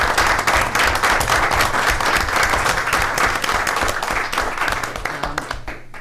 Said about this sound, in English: we should give Joanne a round of applause for her